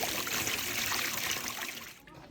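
Water trickling and splashing during gold panning outdoors, a steady soft close hiss of flowing water that tapers off at the end, with no talk.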